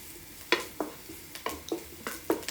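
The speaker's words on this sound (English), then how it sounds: "Because I am stir frying right now." Sharp scraping strokes of a spatula stir-frying pad thai in hot oil, roughly eight irregular stirs over a faint sizzle, close and fairly loud.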